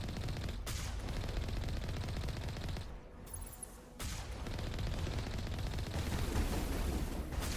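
Sustained automatic gunfire and explosive combat noise from the video game Mass Effect Legendary Edition, loud and dense throughout, with a brief lull partway before the shooting resumes.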